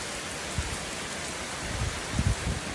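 Steady summer rain falling and pattering on surfaces, a dense even hiss with a few louder drops, no talking.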